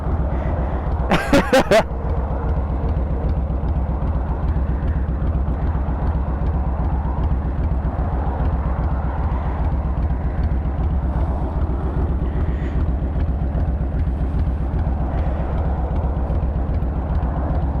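A Suzuki GSX-R1000 sport motorcycle on the road, its engine a steady loud drone mixed with wind rush throughout, broken only by a brief sharp burst near the start, with no talk.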